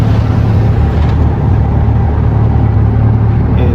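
Modified Corvette C8 with a loud full titanium exhaust, giving a steady, deep rumbling drone that holds close and loud without letup throughout.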